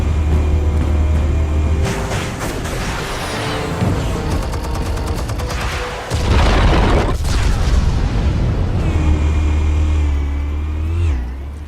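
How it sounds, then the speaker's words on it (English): An explosion in the video game Batman: The Telltale Series, heard as a loud, sustained roar of booming blasts and rumbling that swell, break off briefly and surge again, with no talk. "Explosives armed. Fire when ready."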